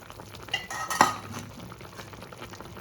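Fish and vegetables being mixed in a pan over a high gas flame, small puti fish, with a few soft utensil scrapes and clinks, one brighter clatter near the middle, quiet and close with no talk.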